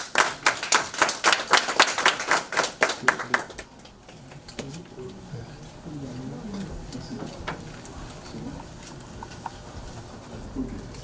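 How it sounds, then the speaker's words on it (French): A small audience at a gathering claps in rhythmic, loud bursts for about three and a half seconds, then the room settles into quiet murmuring and shuffling with a few scattered claps. "Sous vos applaudissements, s'il vous plaît."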